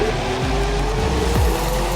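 A coach bus engine in a bus simulator video game accelerating, a steady loud mechanical drone with rising pitch sweeps as it revs, continuous and close with no talk.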